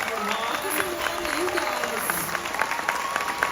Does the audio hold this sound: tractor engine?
no